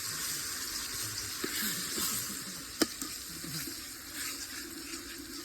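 Onions frying in hot oil for olo, a steady soft sizzle with occasional clinks and one sharp tap, moderately close.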